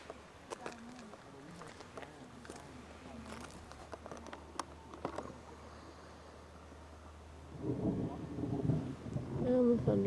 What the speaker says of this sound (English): And the thunder's up here.